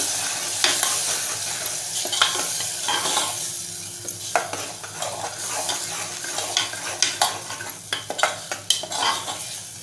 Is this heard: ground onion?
yes